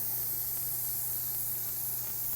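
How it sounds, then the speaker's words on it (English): An Iwata TH fan-pattern airbrush sprays paint at half trigger at about 35 PSI, giving a constant, even hiss close to the microphone with no talking. "This is a TH Iwata, and it is designed to spray a fan pattern"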